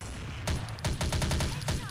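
Rapid MP5 submachine gun bursts in the shooter game Blood Strike, several sharp automatic volleys firing close and loud over a steady game-audio bed, with no talking.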